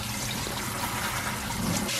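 Raw pork being rinsed under a running kitchen tap while cooking Vietnamese braised pork and eggs; a steady close splash and trickle of water runs throughout, with no talking.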